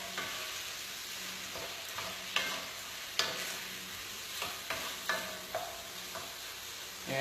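Onions sautéing in a pan for chicken with white wine sauce, a steady low sizzle broken by several sharp scrapes and clacks of a utensil stirring them, close and fairly quiet with no talking.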